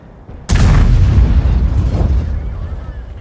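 A tank gun in World of Tanks fires with one sudden, loud, heavy boom, and a deep rumbling tail lingers and slowly fades for several seconds.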